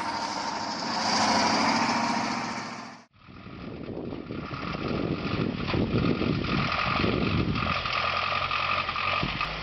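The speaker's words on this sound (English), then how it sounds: "A relatively risky job when the driver wants to swim across the river with his tractor truck." A heavy off-road tractor truck, such as a KAMAZ or URAL, drives into a deep river: its diesel engine drones steadily and loudly, cuts off for an instant, then resumes with rough, churning noise and no talk.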